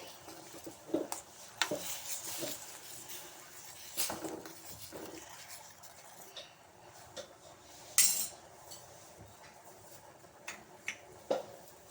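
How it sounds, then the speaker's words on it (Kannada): A spoon or spatula scrapes and clinks against a pan while butter goes into a thickening paneer gravy at home, with irregular metallic taps and stirring rubs, one sharp clink standing out, all fairly quiet with no talking. "ಬೆಣ್ಣೆ ಹಾಕೋತಾ ಇದ್ದೀನಿ"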